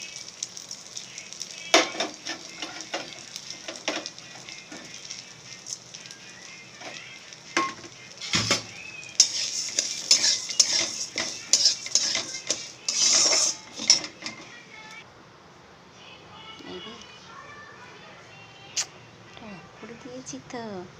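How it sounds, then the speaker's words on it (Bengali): Moong dal frying in a little oil, a faint sizzle under clattering utensils and scraping stirs, with a voice talking over much of it. "অল্প তেল দিয়ে আমি ডালটা ভেজে নিচ্ছি, মুগের ডালটা"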